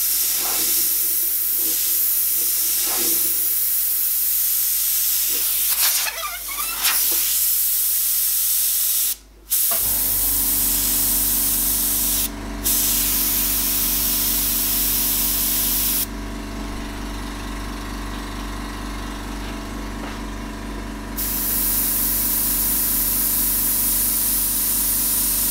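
Airbrush spraying a fine paint mist onto a horror portrait: a steady close hiss that starts and stops in short bursts, then runs as a long continuous spray.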